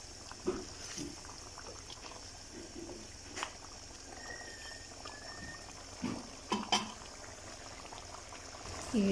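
A pot of Peshawari mutton gravy simmers on the stove with a soft, continuous bubbling and a few louder pops and blips, close and quiet with no talking.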